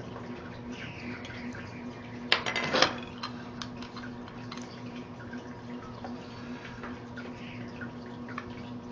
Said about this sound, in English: And we'll stir it before we check it,